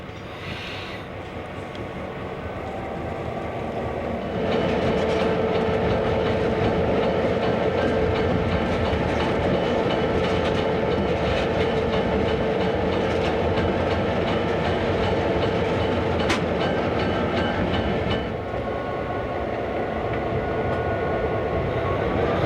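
Algoma Central tour train locomotives running steadily on rails, a continuous loud rumble with rhythmic clatter and a faint whine, swelling after a few seconds and easing near the end.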